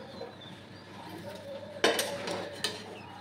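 Stirring food in a small kadai (wok) at home: low, steady kitchen background, then a couple of sharp metallic clinks and scrapes from a utensil against the pan near the end. No talking.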